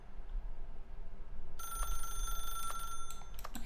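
A telephone rings in the video game The Stanley Parable: a steady electronic trill starting partway through and continuing with brief pulses, moderately loud over a low background hum, with no talking.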